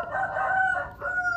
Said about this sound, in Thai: ไก่กูขันไม่หยุดเลย